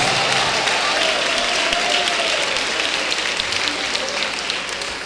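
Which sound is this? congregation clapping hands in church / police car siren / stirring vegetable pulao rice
congregation clapping hands in church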